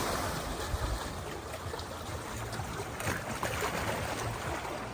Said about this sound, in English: you love the sound of the water splashing up against the rocks